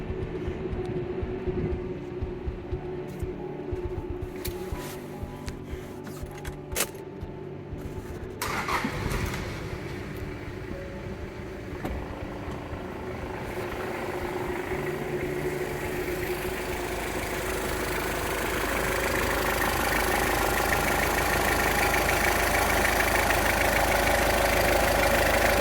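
A Toyota Crown Comfort with a 2LTE turbodiesel cranks and catches after a few scattered clunks, then settles into a rough diesel idle. The idle grows louder and fuller over the final half of the clip, close by, with no talking.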